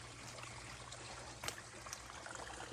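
Water trickling and pouring steadily onto marigolds in a summer garden bed, a soft continuous stream held close and alone, with one slightly louder splash midway.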